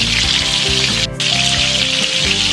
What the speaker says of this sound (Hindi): तो अब एक तरफ से टिक्कियों को गोल्डन कलर के साथ फ्राई होने देंगे।